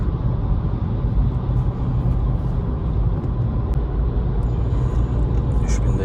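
A VW Polo 1.0 TSI five-speed engine pulls at speed on an open road, a steady close rumble of engine and road noise that holds loud and even throughout, with no clear rise in revs.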